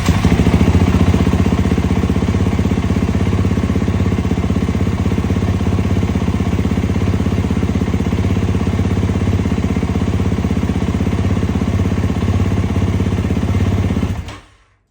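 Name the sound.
Kawasaki KX450X dirt bike engine starting and idling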